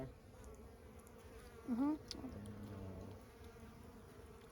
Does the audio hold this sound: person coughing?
no